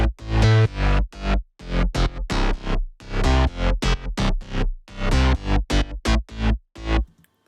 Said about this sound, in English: we'll start with the bass line